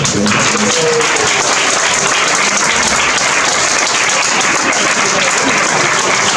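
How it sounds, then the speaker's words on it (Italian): Audience at a book presentation in a Feltrinelli bookstore in Naples gives loud, sustained applause, many hands clapping densely and steadily close by, with no pause. "sono veramente felice che voi siete venuti qua ancora una volta a Feltrinelli, alla quale vi facciamo un applauso"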